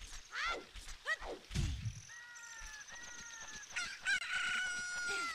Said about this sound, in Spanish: Mira, un gallo salió del huevo que estabas incubando